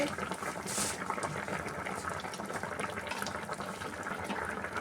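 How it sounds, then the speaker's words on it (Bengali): Rui fish stew boils in a pot, a steady, dense bubbling and simmering hiss that holds at an even level throughout, near and without any voices. "এবার ফুটবে"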